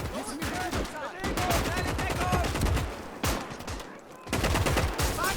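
Rifle and machine gun fire in Gates of Hell: Ostfront on the Eastern Front, dense overlapping shots and automatic bursts, some close and sharp, others distant, continuous with brief lulls.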